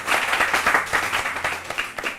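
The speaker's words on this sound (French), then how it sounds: "applaudissez pour So Pedro s'il vous plaît." A comedy show audience applauds for So Pedro, giving a moderate wash of clapping with some distinct claps standing out, steady for about two seconds.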